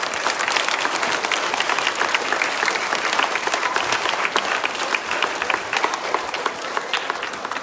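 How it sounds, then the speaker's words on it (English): An audience at a school gathering applauds, a dense, sustained wash of many hands clapping that stays loud and steady for several seconds. "how about we give Sanjeev a really big clap of hands"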